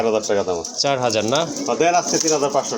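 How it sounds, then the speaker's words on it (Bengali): Pigeons coo in repeated throaty, rolling phrases close by, with a voice speaking over them. "এই যে দেখেন খুবই ছটফটা কবুতর"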